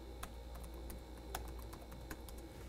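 Steady typing on a computer keyboard, a quick run of light key clicks, some sharper taps standing out, over a low constant hum with no talking.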